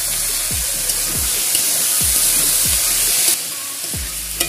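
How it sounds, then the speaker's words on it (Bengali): Potatoes sizzle and fry steadily in hot oil in a pan for a Bengali paneer ghugni, with several sharp scraping stirs of a spatula recurring about every second, close and loud with no talking. "আলু কষে নিচ্ছি"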